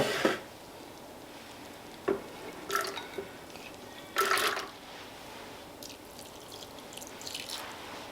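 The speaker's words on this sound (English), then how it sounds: "So add the water in gradually as you go." Water poured in small additions onto soaked dal in a grinder while making vegan masala omelette batter: a few short, quiet splashes and drips spread over several seconds against a soft background, with no talking.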